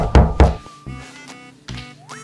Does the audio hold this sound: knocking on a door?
yes